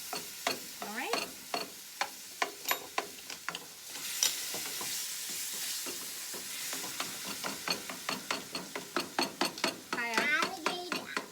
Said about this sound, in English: I'm just going to use my spoon to crush them up